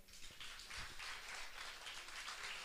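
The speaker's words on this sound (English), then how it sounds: "A round of applause for him." An audience applauds a campus registrar as he is introduced at an orientation and health and wellness talk, a faint, even wash of many hands clapping throughout with no voices.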